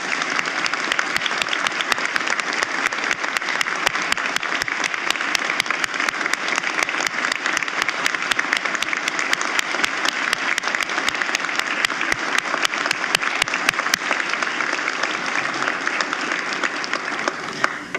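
An audience at the 2023 State of the Judiciary address gives a sustained round of applause for judiciary colleagues, with dense, steady clapping from many hands that holds evenly for about eighteen seconds before stopping.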